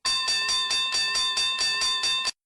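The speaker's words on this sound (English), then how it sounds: "hit the notification bell" A notification bell chime rings about nine times in quick, even succession, bright and ringing, loud and alone before cutting off abruptly.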